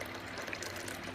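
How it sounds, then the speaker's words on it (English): Beer pours from a Vorloff tap in a steady, dense, faint gushing stream of liquid that holds evenly through the short moment, with nothing else heard. "we were getting a nice thick golden pour here from the Vorloff"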